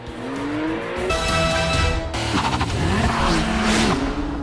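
Porsche 911 Turbo driving hard, engine note rising and falling through gear changes with brief tire squeal, loud and close, no voices.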